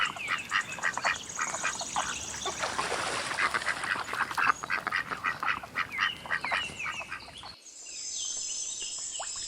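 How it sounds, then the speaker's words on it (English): A duck gives a long run of rapid, raspy quacks, close and fairly loud, then falls quiet before a softer sound near the end. "Duck."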